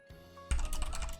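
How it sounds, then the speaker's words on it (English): A computer keyboard clatters as a chat message is typed during a game stream, a quick run of close, crisp keystrokes starting abruptly after a short quiet moment with a faint tonal hum behind. "I'm typing in a message."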